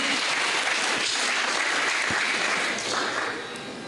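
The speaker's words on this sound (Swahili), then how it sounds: "Pigia Bwana makofi." A church congregation claps together during a worship service, a dense sustained burst of applause that stays loud and then eases off slightly at the end, with no talking.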